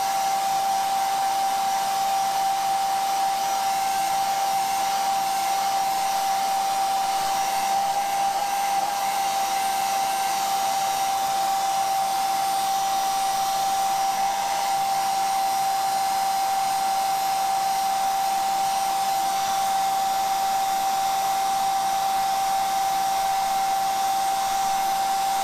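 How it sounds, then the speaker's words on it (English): A hairdryer in a workshop blows a loud, constant whine for its whole run, used to heat epoxy ribbons for pen blanks, with no talking over it. "you just get your hairdryer out again"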